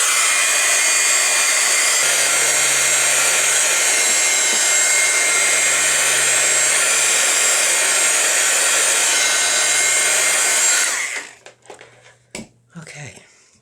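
A dryer blows hot air over distress ink on a Christmas tag with a loud, steady whirring roar for about eleven seconds, then cuts off, leaving a few light clicks and handling taps.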